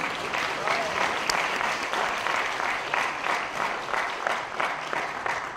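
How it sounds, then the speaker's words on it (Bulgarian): A crowd applauds the contestants at the Tsaritsa na Avgustiada 2016 pageant in Stara Zagora, sustained, even clapping from many hands filling the hall for several seconds. "Аплодисменти за тези прекрасни момичета."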